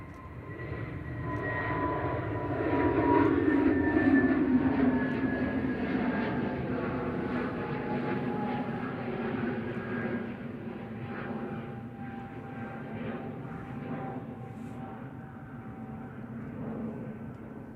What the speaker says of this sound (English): Pegasus heading back to Antalya. Flight 1816 TCMBZ, A320 Neo.